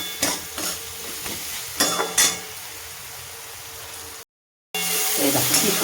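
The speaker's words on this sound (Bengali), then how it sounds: "তেল ছাড়া পর্যন্ত কষবো।" Tomato masala stir-fried in oil for a pomfret curry: a soft sizzle runs throughout, broken by a few sharp scraping strokes of the spoon against the pan, close up, then a brief gap of silence before the sizzling returns louder.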